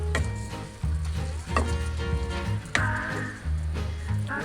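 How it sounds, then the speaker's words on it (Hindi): A spoon scraping and stirring carrot pickle with freshly ground spices in a pan, with a steady low sizzle under repeated knocks and scrapes against the metal, close and fairly loud. "इसको भी कर लेंगे अच्छे से मिक्स।"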